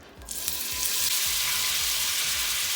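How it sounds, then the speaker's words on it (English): Butter hits a very hot pan and bursts into a loud, steady sizzle that swells within the first half second and carries on evenly, close by, with background music beneath it and no talk. "Our pan is so hot that at this point I turn the pan off."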